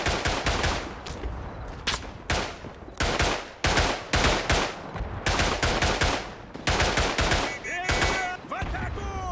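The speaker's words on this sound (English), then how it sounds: "there's so many bullets going off right by me" Dense bursts of rapid gunfire from a World War I battlefield in the game Tannenberg, loud volleys firing close by in repeated clusters with brief gaps, a few whistling shell sounds near the end.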